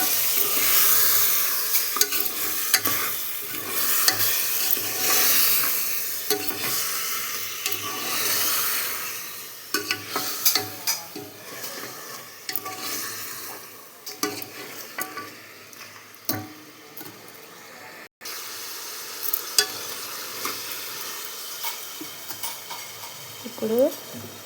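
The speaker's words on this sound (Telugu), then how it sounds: "ఇలా మటన్ వేసుకోండి. మొత్తం ఇప్పుడు కలిపేసుకోండి." Mutton curry frying in a pan as it is stirred, a steady close sizzle with scraping and clinking strokes of the spoon throughout, no voices.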